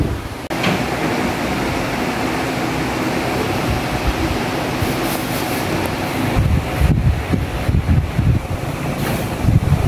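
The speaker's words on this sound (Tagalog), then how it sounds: "Then, tatapat tayo sa electric fan." Steady, broadband rushing air noise throughout from an electric fan blowing hard right near the microphone, growing rougher and gustier toward the end.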